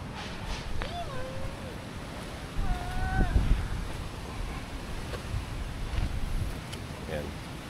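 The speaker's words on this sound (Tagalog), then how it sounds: "lakas ng hangin." Strong wind at a beach campsite blowing steadily into the microphone with surf rumbling beneath, while a few short vocal sounds break through.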